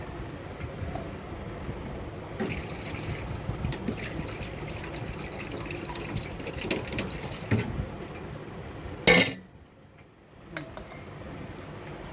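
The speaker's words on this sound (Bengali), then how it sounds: "এই মগে আমি ছাঁকনি দিয়ে চাটা ছেঁকে নিই।" Tea poured through a strainer into a mug, a steady liquid trickle and splash running for several seconds, with small clinks of the strainer and a brief sharp clatter near the end before it fades.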